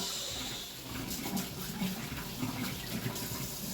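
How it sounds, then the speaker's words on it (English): Tap water runs steadily into a kitchen sink as hands are washed during spaghetti sauce preparation, a soft continuous rush with faint splashing, close by and moderately quiet, with no talking. "I'm gonna give my hands a wash."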